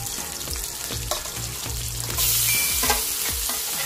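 Marinated chicken with garlic is tipped into a pan of golden-browned frying pork for adobo, a loud sizzle that surges as the meat hits the hot oil, with stirring clatter and scraping.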